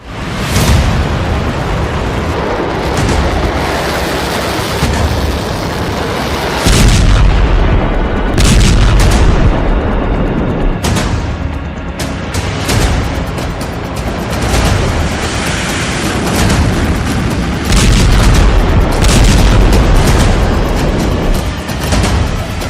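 Loud, repeated booming explosions in Beirut roll and rumble one after another, dense and continuous, with sharp blasts cutting through a heavy low roar.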